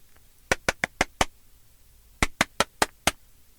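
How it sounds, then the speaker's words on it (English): Knocking on a bathroom door comes in two sharp bursts of five raps each, evenly spaced and close by, separated by a short pause. "Susan runs upstairs and knocks on the bathroom door."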